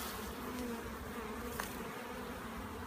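Honey bees drone steadily around an open urban Beehaus hive in London, a dense, close, continuous buzzing hum throughout with no talk.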